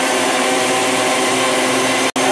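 Electric mixer whirring steadily and loudly as it blends homemade coconut lotion, a continuous close hum that cuts out for an instant near the end before resuming.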